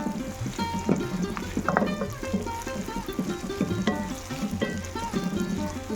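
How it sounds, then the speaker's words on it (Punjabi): Spices and masala for a mutter mushroom sabji roast in a pan with a close, steady sizzle and frying crackle, broken by occasional stirring scrapes and clinks. "ਆਪਾਂ ਇਹਨੂੰ ਭੁੰਨ ਲਵਾਂਗੇ ਤਾਂ ਕਿ ਜਿਹੜੇ ਆਪਾਂ ਮਸਾਲੇ ਪਾਏ ਆ ਉਹ ਵੀ ਚੰਗੀ ਤਰ੍ਹਾਂ ਰੋਸਟ ਹੋ ਜਾਣ"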